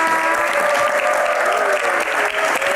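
Sustained applause from a studio audience at an Indonesian talk show, steady and loud throughout with a faint musical tone underneath.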